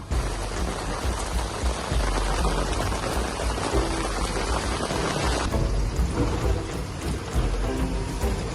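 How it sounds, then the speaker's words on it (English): Heavy rain pours down on a sailboat before a crossing, a dense, loud, continuous hiss of drops hammering the deck and surfaces without a break. "Just dumping rain."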